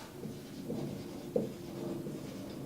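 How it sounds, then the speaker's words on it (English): Chalk or marker strokes on a board during a nuclear chemistry lesson, soft scratchy scrapes in short bursts with a small tap near the middle, fairly close and without talking. "So we'll write up here a beam"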